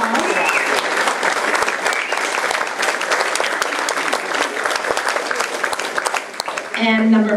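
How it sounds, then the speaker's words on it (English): Audience applause for union members, the chocolate workers local, at a Democratic candidate spring fling event, loud and steady with sharp individual claps throughout, then a short burst of speech near the end. "Everybody stand up so we can give you an applause."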